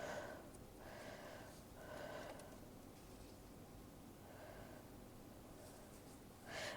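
Short, faint sniffs and snorts recur in slow bursts from someone with a heavy cold, close to the mic in a quiet room with no talk.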